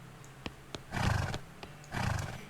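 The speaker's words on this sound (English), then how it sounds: "It's your new horse, Cumberbatch." A horse named Cumberbatch whinnies in the western comedy game West of Loathing, two rough, close neighs over a few soft hoof knocks.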